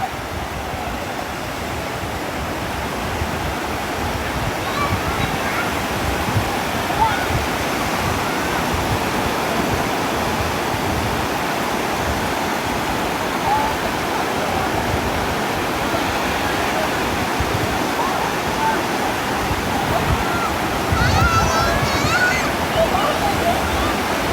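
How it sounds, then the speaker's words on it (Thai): Sea waves surge and wash onto a beach while wind blows steadily, a dense continuous roar of surf throughout with a slightly stronger wash near the end. "ลมมันทำให้ทะเลมีคลื่นเหรอ"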